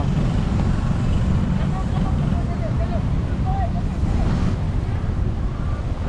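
Strong, steady wind buffets the microphone throughout an open park in Manila, a constant low roar with gusty rumble and no pauses.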